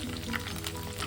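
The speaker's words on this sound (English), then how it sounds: "I'm not deep frying it, I'm just using a fry pan to fry it lightly till it's" Chicken fries lightly in a shallow fry pan, a faint, steady sizzle and crackle running throughout.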